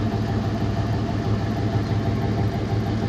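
The engine of a 1991 Chevy runs steadily and up close, a dense low rumble holding an even level throughout with no distinct revving and no voices.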